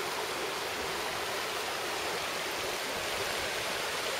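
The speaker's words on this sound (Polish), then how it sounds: "Strumyczek" A small stream near Anchorage, Alaska flows steadily as a dense, even wash of water noise, close and continuous with no voices.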